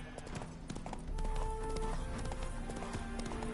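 Hooves clop from Roach, the horse in The Witcher 3, as it is spooked by ghosts, and a whinny breaks out partway through, with the game's ambient backdrop underneath.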